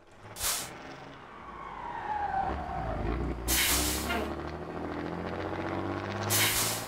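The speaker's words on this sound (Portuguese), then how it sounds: "E aqui quando se pisa no freio também, ele dá aquele solto ar." In Farming Simulator 2013, a truck's air brakes release three sharp hissing bursts of air over the steady drone of the engine and a rising, whining tone.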